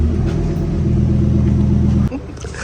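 A Lamborghini engine rumbles deep and loud nearby for about two seconds, then cuts off abruptly, leaving quieter background sound.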